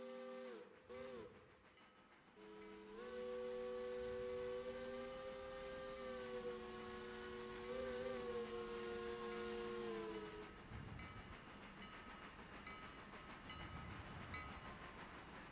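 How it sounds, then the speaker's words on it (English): A Blue Ridge and Western locomotive in the Railroader game sounds a long, loud multi-tone whistle at a railroad crossing, held steady for several seconds, then the train rumbles on with quieter rail noise. "let's just enjoy a little bit of railroad crossing action"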